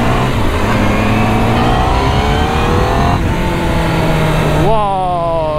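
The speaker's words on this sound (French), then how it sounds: "L'avantage d'une sportive, c'est qu'elle fait du bruit. Donc faut pas hésiter à mettre des coups de gaz." A Honda CBR 1000 RR-R Fireblade sport motorcycle engine revs hard and close on the road, a dense rising whine under wind rush that builds steadily, then a sharp blip of throttle near the end; a rider talks over it.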